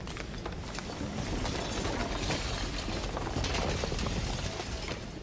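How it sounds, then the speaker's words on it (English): Dense, sustained crunching and grinding shatter from the video game Slay the Princess, loud and continuous throughout with gritty ratcheting texture and no voice. "And then the shattering."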